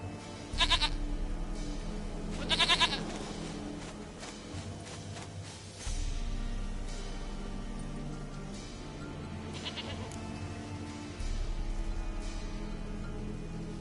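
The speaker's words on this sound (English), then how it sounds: "Goat of mine, dearest," A goat in The Witcher 3: Wild Hunt gives a few loud, wavering bleats over a steady game backdrop of low ambience and music.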